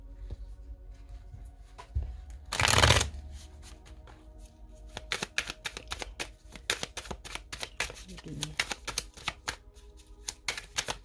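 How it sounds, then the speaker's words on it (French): Deck of cards being shuffled, with a brisk riffle and rapid flicking snaps throughout and a short burst as the cards are sprung, close by with no talk. "Allez, on va faire sauter la carte"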